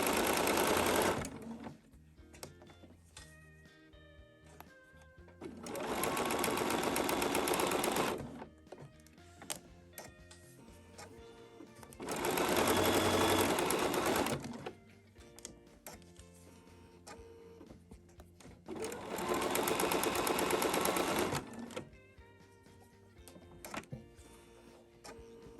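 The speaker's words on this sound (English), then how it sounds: "We're gonna sew the other side of this one." A sewing machine stitches a quilt block in four loud, steady runs of whirring, each several seconds long, separated by quiet pauses while the fabric is handled.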